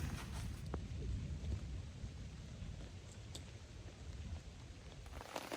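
Heavy rain drums steadily on a tarp shelter during a woodland outing with a pitbull, a dense, continuous hiss and patter close overhead with no voices, with a brief louder gust near the end.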